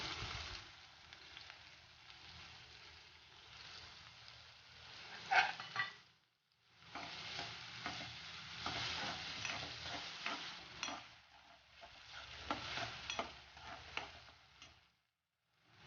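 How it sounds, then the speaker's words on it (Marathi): Chopped onion frying in hot oil for a spicy sukat vang (dried shrimp and eggplant) dish, a steady crackling sizzle with stirring scrapes, briefly dropping out near the middle and end before resuming. "तेल तापले तर याच्यामध्ये कांदा टाकून घेते"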